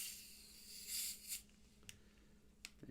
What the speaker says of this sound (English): The beautiful sound of club soda opening.